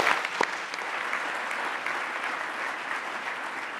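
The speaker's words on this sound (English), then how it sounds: "Please give a round of applause to Life." An audience at the Hult Prize finals and awards ceremony claps steadily for a presenting team, a full, even round of applause sustained throughout with no voices on top.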